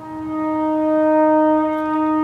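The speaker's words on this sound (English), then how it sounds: "the last day of Passover is beginning now, and that's the siren indicating it." A steady, sustained siren in Jerusalem marking the start of the last day of Passover wails on a single high tone throughout, loud and continuous with no voices.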